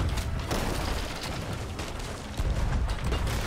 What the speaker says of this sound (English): I'm just flicking on cannon 4 every now and then.